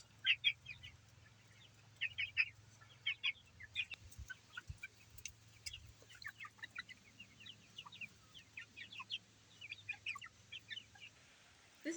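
Chickens on a homestead, including a heavy Jersey Giant rooster, cluck and chatter in frequent short bursts, fairly close, over a low steady hum, with no voices.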